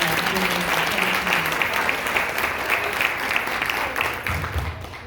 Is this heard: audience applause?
yes